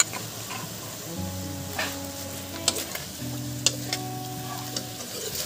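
Ginger-garlic paste frying in hot oil with pork in a pan, giving a steady soft sizzle with occasional sharp crackles and stirring scrapes, close up and without talk.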